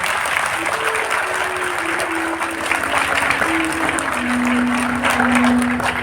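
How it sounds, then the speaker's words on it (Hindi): Audience at a live religious katha gathering applauds with sustained, dense clapping that holds steady throughout, a faint tonal hum running beneath it. "अपने लिए एक बार जोरदार तालियां बजाएं"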